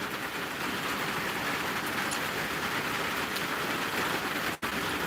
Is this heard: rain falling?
yes